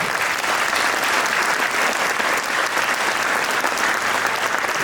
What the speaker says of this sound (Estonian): Suur aplaus 9. C-klassi.